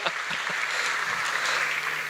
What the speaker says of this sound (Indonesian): Kalian kasih tepuk tangan dulu ke Pak William.